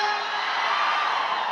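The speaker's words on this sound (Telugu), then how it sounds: "థియేటర్లో ఈ అరుపుల కోసం వెయిటింగ్" A crowd at the Mass Jathara film pre-release event shouts and cheers in a dense, continuous, fairly loud wash of voices.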